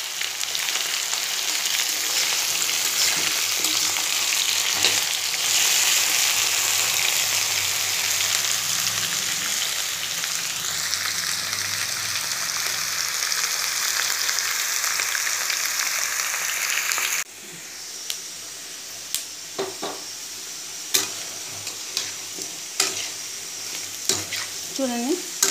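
Onions frying in oil in a pan for a potato fry, a loud continuous sizzle that drops abruptly partway through, then quieter crackling with spoon scrapes and stirring knocks, alone without talk.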